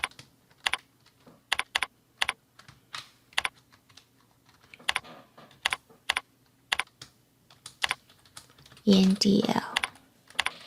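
Code being typed on a computer keyboard, sharp clicking keystrokes in irregular bursts and pauses, close and clear, with a short spoken phrase near the end.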